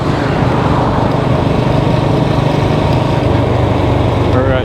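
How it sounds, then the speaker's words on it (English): A motorbike engine runs loudly and steadily close by, a constant buzzing drone with no pauses. "we are taking the motorbike back"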